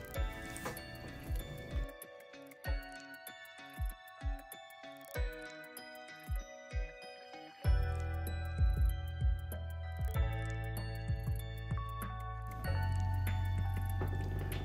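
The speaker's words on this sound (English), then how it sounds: "we're just going to mix until all those oils are fully incorporated" Whisking melted butters and oils in a bowl for lavender soap, with a run of soft squishy, dripping strokes and small clinks near at hand, turning into a denser, steadier churning partway through.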